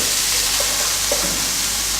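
A steady, loud sizzle of meat stir-frying dry in a hot pan, with faint scraping of stirring underneath.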